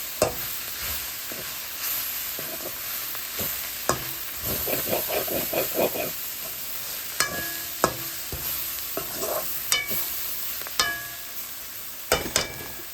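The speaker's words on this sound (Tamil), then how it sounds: "நாங்கள் கோவா வர இப்படித்தான் வறுக்கிறது." Cabbage frying in a pan with fresh curry leaves, a steady sizzle broken by sharp clacks of a spoon stirring and scraping, close and fairly loud with no talk.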